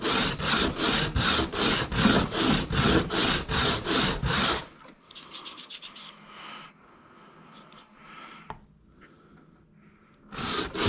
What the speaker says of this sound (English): I'm getting a little bit more shaving on this side, so I'm going to angle to put a little bit more pressure on the back and catch it up